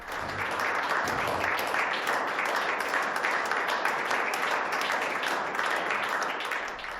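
Sustained applause from a room of council members, steady clapping at moderate volume lasting several seconds without pause.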